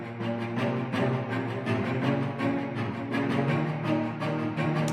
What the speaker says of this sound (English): This is a cello. It's playing basically the ground note,